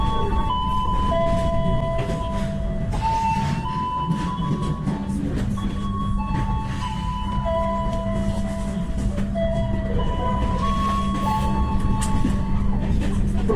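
Aboard the Parahyangan passenger train between Jakarta and Bandung, a steady rolling rumble fills the carriage while a chiming melody and an announcer's voice play over the top.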